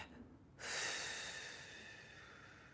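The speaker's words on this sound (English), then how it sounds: "Deep breath, hold it, and then let it out." A slow, deep breath during a mindfulness exercise: a quiet inhale, a short pause, then a long, close exhale that fades gradually.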